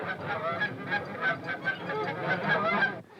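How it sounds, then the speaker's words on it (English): A flock of geese honks continuously, harsh overlapping calls in a steady rhythm, fairly close and loud, ending abruptly. "Often he would chat with the chickens and geese"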